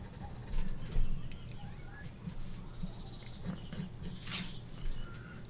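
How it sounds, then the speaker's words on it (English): Birds tweet outside an open window near a school, with small chirps and coos scattered over a steady low background hum. The calls are moderately loud and irregular. "I don't know if you can hear the birds tweeting outside."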